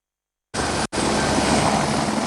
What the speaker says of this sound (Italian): un elicottero dei Vigili del Fuoco di Trento intanto preleva l'acqua dal Rio per spegnere il fuoco